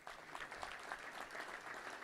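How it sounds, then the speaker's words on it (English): Steady applause from an audience at a touchdown club gathering, a soft, even wash of many hands clapping, fairly faint and distant, continuing throughout. "Give them both a round of applause back there in the back."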